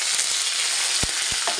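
Curry leaves, green chilies and dried red chilies sizzle and crackle in hot oil with popping mustard seeds for a sambar, a steady loud frying hiss with a couple of sharp pops, no talk.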